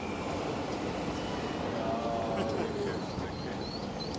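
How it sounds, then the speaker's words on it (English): Tram rolling past on a city street in Zürich, a steady close rumble with faint squeals and rail noise under general street ambience, continuous throughout. "We have a tram, but let's not get run over."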